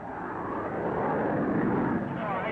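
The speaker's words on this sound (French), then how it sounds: "à l'un de ses moniteurs, M. Mattei, nous avons pu suivre en vol l'atterrissage de la Caravelle" An Air France Caravelle jet airliner roars in to land, a steady broad engine rumble and whine heard close, overlaid by a voice narrating.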